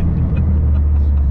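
Tuned Mitsubishi Evo X engine, a steady low rumble idling close by with no change in pitch, heard alone for a short moment.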